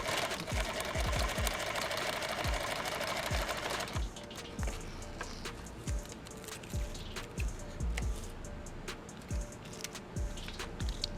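A sewing machine with a thread-cutting fault stitches fabric for an ankle med kit, running fast and dense at first, then slower with distinct rhythmic needle thumps, close and without talk.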